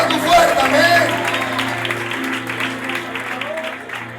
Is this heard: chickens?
no